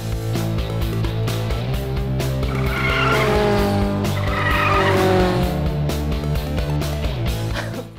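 A My Mini Race Cars toy race car whirs and skids, its tires squealing in a loud, continuous high whine that rises and falls over several seconds, with no voices.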